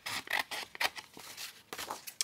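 Scissors cut through a strip of paper bag in a quick run of crisp, quiet snips and rustles, close up and with no talking.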